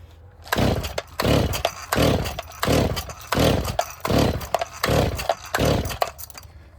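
A Stihl 024AV chainsaw engine runs with its faulty spring-loaded choke held down, revving in about eight loud, rhythmic bursts with short dips between, close up and without talk.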